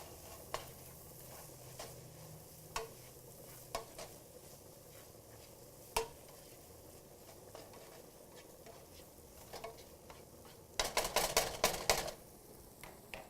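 A utensil stirring food in a cooking pan, sparse light clinks and scrapes against a quiet sizzle, ending in a quick cluster of rapid metallic taps.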